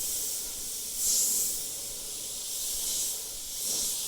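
A Mobius SP suction-feed airbrush hisses steadily as it sprays paint, a continuous airy spray with a few brief louder bursts, heard alone without any talk.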